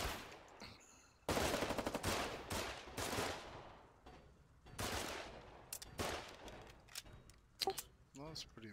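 Bursts of gunfire in the war video game Foxhole, rapid automatic volleys separated by short gaps, loud and close, with voices talking between and over the shots.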